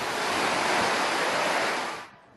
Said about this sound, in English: the staircase behind me is now basically a waterfall